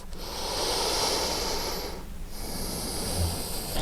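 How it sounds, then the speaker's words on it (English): Slow, audible ujjayi yoga breaths, a long hissing, throat-constricted inhale followed by a brief pause and another breathy airflow, close and steady with no talking. "Hearing each breath with ujjayi breathing helps you be more aware of each individual breath."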